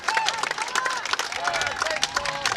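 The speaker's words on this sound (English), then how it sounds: "Nice round of applause for the junior" Crowd applause with scattered cheers at a high school baseball championship game between Wayzata and Edina, greeting the junior pitcher as he leaves, a steady wash of clapping throughout with an announcer talking over it.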